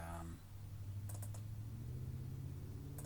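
Mouse clicks while editing in the CapCut app, a few faint, sharp clicks near 1.1 s and at the end, set against a steady low hum and background room noise.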